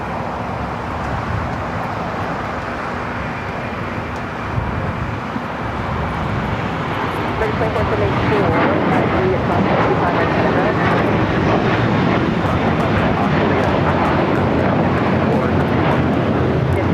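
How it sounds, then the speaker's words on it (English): A Boeing 747-8 takes off from the south side of LAX, its engine roar a loud, steady broadband rumble that builds and holds across the whole stretch, with faint voices underneath. "747-8s taking off here on the south side."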